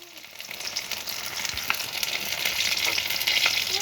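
Bora fritters frying in hot oil, a continuous bright sizzle that slowly grows louder, with a few faint clinks of a utensil against the pan and no talking.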